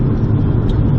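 A Mercedes-AMG GT S engine gives a loud, deep, steady rumble from close by, lasting just a moment.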